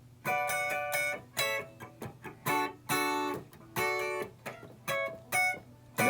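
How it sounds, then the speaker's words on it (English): Electric guitar strumming short triad chord stabs in a rhythmic pattern from a song, bright and close, with brief gaps between hits and no talking. "when the guitar actually comes in, we have some triads."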